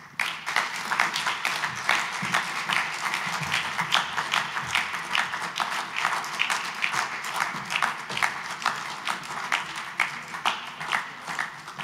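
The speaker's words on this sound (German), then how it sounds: "Also für die Gewinnerin nochmals einen herzlichen Applaus" An audience applauds the 2020 award winner at a Swiss student sports awards ceremony, steady rhythmic clapping from a modest crowd that carries on for about twelve seconds.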